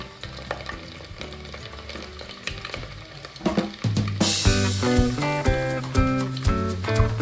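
Mustard seeds, coriander, garam masala and garlic hit hot oil in a tempering for Kathiyawadi-style brinjal bharta. A quiet pan erupts midway into a loud, bright sizzle that keeps crackling, with steady tones running underneath.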